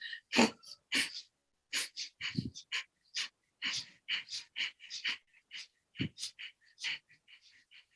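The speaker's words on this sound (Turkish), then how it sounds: "Şimdi sırf burundan veriyoruz." Someone breathes out through the nose in a breathing exercise, a series of short, sharp nasal exhalations in a quiet room, close and fairly loud, with brief pauses between them.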